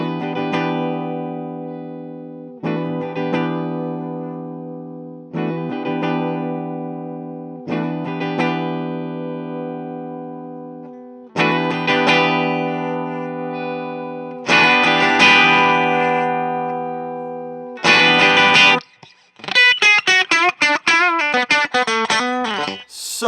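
A 1981 Gibson Sonex Artist electric guitar in candy apple red, played through its bridge pickup with heavy distortion and boosted treble, rings out loud sustained chords that end in a burst of fast, bright picked notes, with no voices.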